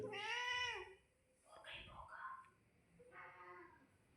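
A cat meows a few times, close and fairly loud, with drawn-out cries separated by short pauses.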